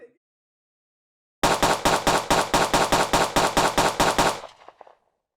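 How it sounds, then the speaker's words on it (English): Fourteen gunshots ring out in a rapid, evenly spaced burst, loud and sharp, against near silence. "That's the sound of 14 gunshots."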